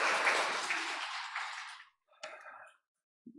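A church congregation claps together to welcome visitors, a dense burst of applause that fades out over about two seconds, followed by a short scattered patch of clapping and a faint final sound.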